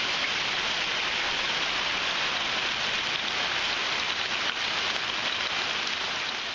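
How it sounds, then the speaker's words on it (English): Quarter-sized hail pounds down outside in a dense, unbroken roar of impacts, steady and loud throughout with no individual strikes standing out. "check this shit out, man. Straight quarter-sized hail."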